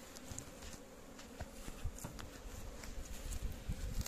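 Honeybees crowd around winter feeding dough in a hive, a faint, steady buzzing hum with scattered closer flybys, heard alone without speech.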